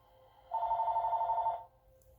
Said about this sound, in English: I apologize, their phone is ringing.